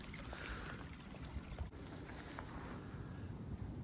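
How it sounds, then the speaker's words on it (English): Wind blows outdoors in brutally cold weather as a steady, rushing buffet of noise across the microphone, fairly faint, with no voices. "since I've got here, the wind's picked up"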